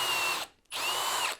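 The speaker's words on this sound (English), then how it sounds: "The first thing I'm going to do is drill a hole." A power drill bores a hole through wood guided by a woodworking jig, two loud close whirring bursts split by a brief pause, with no voices.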